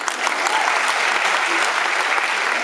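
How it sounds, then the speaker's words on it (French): An audience bursts into loud, dense applause at a live show in Lucé, a short, steady thunder of clapping heard up close without talk. "un tonnerre d'applaudissements pour vous-même"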